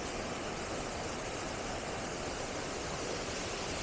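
Steady, soft broadband rush of a waterfall in a hidden Lake District valley, heard from a distance as a constant wash with no voices.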